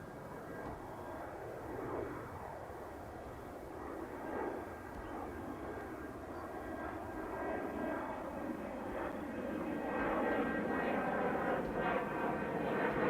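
An aircraft landing on runway 20 at Edmonton International, a continuous broad engine roar that stays fairly steady and swells slightly toward the end, heard from a distance.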